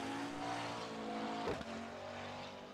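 Porsche GT3 race car sitting in the pit lane during a pit stop at Mid-Ohio, its engine droning steadily and loudly with a brief sharp burst near the middle, set against a continuous track din.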